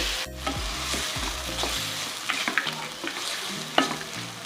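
Grated green mango fries in oil for mango rice, a close sizzle under a series of spatula stirs and scrapes against the pan, some sharper clicks between them, with no voices.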